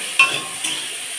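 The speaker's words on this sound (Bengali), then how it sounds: "পেঁয়াজ দিয়ে দিই, টেস্টি একটু হওয়ার জন্য, তাই পেঁয়াজটা দিচ্ছি" Onions fry in a pan with a soft, even sizzle, broken by a couple of brief scraping clicks as a utensil stirs them, close and fairly quiet with no voices.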